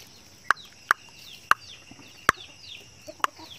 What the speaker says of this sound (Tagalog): Yung ating mga manok guys, oh.